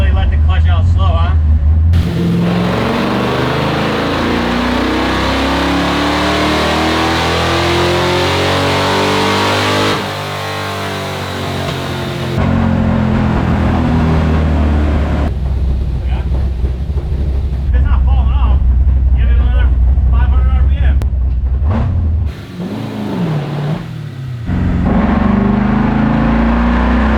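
An LS-swapped International Harvester Travelall wagon roars on a dyno, the V8 revving hard through long loud pulls with brief lifts between gears. The engine is close and constant, and voices can be heard under the noise.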